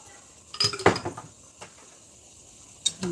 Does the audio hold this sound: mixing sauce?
yes